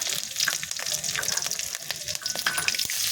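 Black cumin seeds and dried chilies frying in oil give a close, dense crackling hiss with rapid popping throughout, steady and fairly loud.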